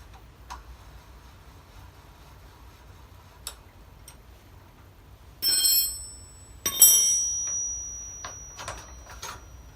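Spanners (19 mm and 14 mm) work the front wheel spindle loose on a Honda CG125 motorcycle, giving scattered metallic ticks followed by a couple of ringing clinks of metal on metal, close in a quiet space.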